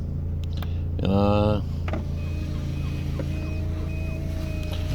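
A Rover 800Si that has sat unused for months gives off a short electronic warning beep, a brief burst of rapid tones over a steady low hum from the car.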